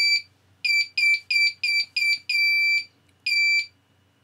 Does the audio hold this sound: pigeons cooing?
no